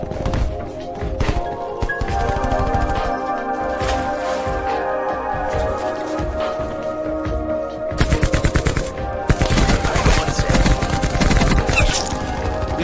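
Rapid automatic gunfire in a shooter video game, loud and nearly continuous for the whole stretch, with denser, harsher bursts in the second half.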